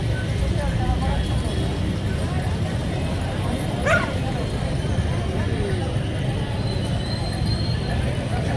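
A dog barks briefly at a bus station amid a loud, constant wash of crowd and traffic noise, with voices murmuring in the background.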